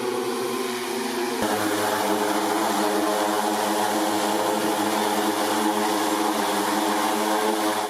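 An agricultural spraying drone flies over farm fields in Malappuram, its propellers producing a loud, steady whine and roar. A sudden shift near the start settles into a constant, close hum that runs throughout.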